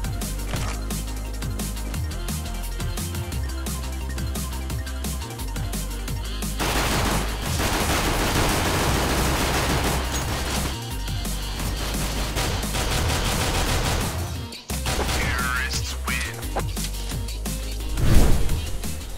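Dense, continuous gunfire from a CS:GO pistol round, with rapid shots layered over a steady game soundtrack and brief drops in level, loud and sustained for nearly twenty seconds.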